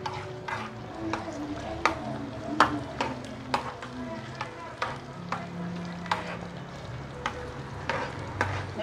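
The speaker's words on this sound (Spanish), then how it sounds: "Debe sofreírse un poco la cebolla juntamente con la salchicha para que quede con un buen sabor." Onion and sausage sauté in a pan under a constant sizzle, with sharp, repeated scraping clicks from a utensil stirring at an irregular rhythm, close up and with no talking.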